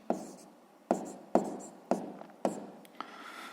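A pen writing numbers by hand on paper during a sixth-grade maths exercise, heard as five or six distinct scratchy strokes in a steady rhythm, close and fairly quiet, with no talking.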